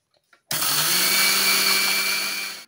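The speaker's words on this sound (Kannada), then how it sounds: "ಇದರ ಮಿಕ್ಸಿಗೆ ಸಿಕ್ಕಿಸಿ ಒಂದರಿ ಹೊಡಿ ಮಾಡಿಕೊ" Electric mixer grinder whirring loudly and steadily as it grinds roasted gram and sugar into powder for laddu, starting abruptly after a couple of faint knocks and running continuously for about two seconds before cutting off.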